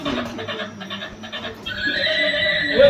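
A horse whinnies loudly and close by, its neigh rising into a bright, strained call toward the end, with faint background noise underneath.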